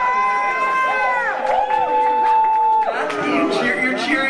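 Audience at the FurSquared 2016 convention closing ceremonies breaks into loud cheering and whoops, a sustained crowd roar with voices rising and falling over about four seconds.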